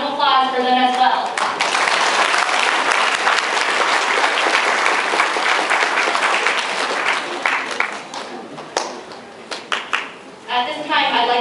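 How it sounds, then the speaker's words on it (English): A school event audience applauds its sponsors in a dense, sustained burst of clapping that thins into scattered claps near the end, with a voice briefly heard at the start and close. "Let's have a round of applause for them as well"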